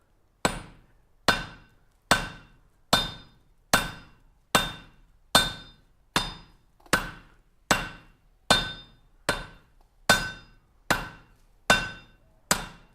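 Hammer blows on hot metal at a forge, about sixteen sharp ringing strikes in a steady, evenly spaced rhythm, each ending in a brief metallic decay, loud and close with no talk.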